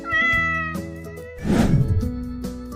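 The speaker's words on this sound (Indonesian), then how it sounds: "mereka mendengar suara miau lembut" A soft, high kitten meow rises and wavers briefly, then fades, with faint tonal background sounds around it.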